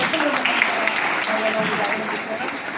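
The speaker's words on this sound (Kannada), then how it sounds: "ಜೋರಾಗಿ ಚಪ್ಪಾಳೆ" An audience claps loudly at a school ceremony honouring top-ranking tenth-grade students. Dense, continuous applause fills the hall while a voice speaks over it.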